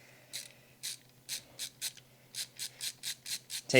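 Repeated short ratcheting clicks of a screwdriver backing screws out of an Asus ROG Strix G15 Advantage laptop case, about a dozen evenly spaced bursts, close and fairly quiet with no talking.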